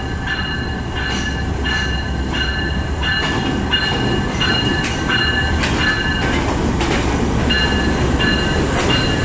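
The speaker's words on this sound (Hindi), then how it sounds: "और अब आ रही है तेज़ बारिश में 39 अब जाफ़र एक्सप्रेस।" The 39 Up Jaffar Express pulls into Multan Cantt railway station in heavy rain, wheels clattering in a loud steady rhythm over rail joints, with repeated horn-like tones and wheel squeal layered over a constant rumble.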